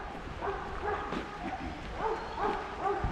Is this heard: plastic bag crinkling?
no